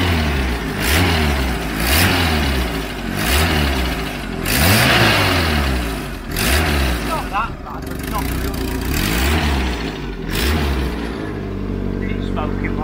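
A Mk3 Ford Cortina engine fitted with a performance cam revs repeatedly in loud, lumpy bursts, dropping back to a rough, loping idle between blips, with some talk over it.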